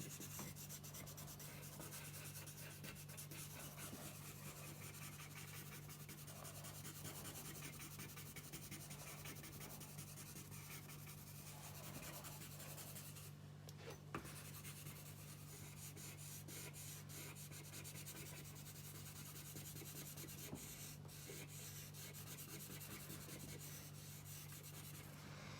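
Graphite pencil shading an apple drawing on paper, a steady soft rubbing and scratching that runs on continuously and evenly, close up, with a low constant hum underneath and no voices.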